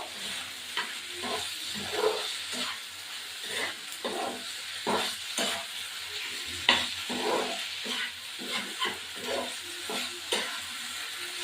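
Fish curry simmering in oil in a pot as water is added, a moderate sizzle broken by repeated scraping stirs that come every second or so, with no one speaking.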